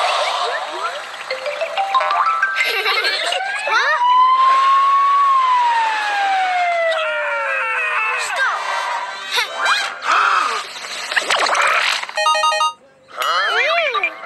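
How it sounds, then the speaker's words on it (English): In an animated Wolfoo cartoon, an ambulance siren wails in loud, rising and falling sweeps, mixed with chiming tones and lively cartoon voices speaking throughout. "It's ambulance!"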